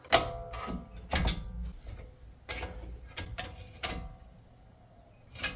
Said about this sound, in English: So I'm just kind of prying on it to push the cylinders in.